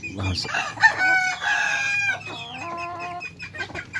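Chickens cluck and squawk close by, with a rooster's crow rising among the scattered calls.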